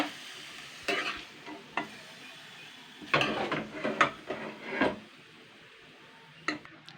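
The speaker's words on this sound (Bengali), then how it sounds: "এবার আমি দুই তিন মিনিট ভালো করে নেড়ে চেড়ে নেবো" Chopped bottle gourd stirred in a frying pan, with scraping spatula strokes coming in irregular bursts over a soft background sizzle, close up with no talking.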